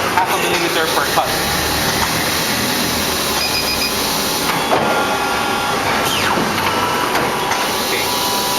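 An Accura Easycut guillotine paper cutting machine runs with a steady mechanical hum, broken by a few sharp cutting strokes spread across the stretch. A voice can be heard over the machine noise.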